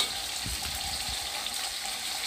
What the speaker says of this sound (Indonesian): terongnya kita goreng dulu ya